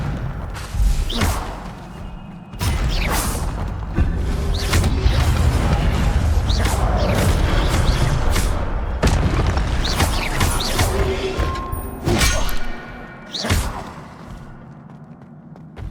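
Spell effects in Hogwarts Legacy, with loud booming blasts, thuds and crackling bursts in quick succession over a continuous rumbling game background, coming in uneven clusters.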